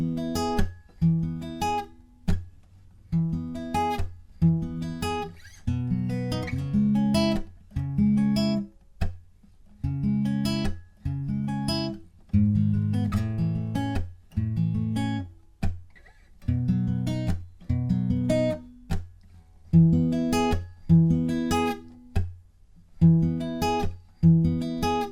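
A guitar plays the barre-chord verse riff of a song without a capo, in repeated rhythmic bursts of strummed chords separated by short gaps, clear and close with no voice.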